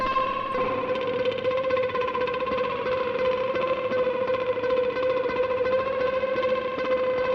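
An Old Blood Noise Beam Splitter delay pedal with delays and feedback maxed out produces a dense, steady wash of layered, pitch-shifted electric guitar echoes that sustains loudly without a break.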